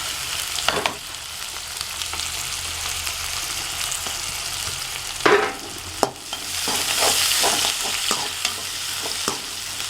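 Garlic, ginger and green chili frying in hot oil, a steady sizzle broken by several sharp scrapes and clinks of a spoon stirring the pan, the frying swelling louder toward the end.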